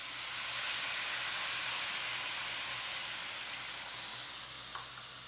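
Apples and apple cider hitting a hot pan, a loud broad hiss of sizzling and steam that slowly fades toward the end, no voices.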